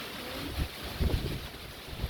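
Gusty typhoon wind from Typhoon Saola in Hong Kong buffets the microphone in low rumbling surges, rising and falling over a steady airy rush, with no voices.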